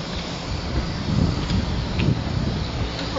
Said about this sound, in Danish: så kører bare toget forbi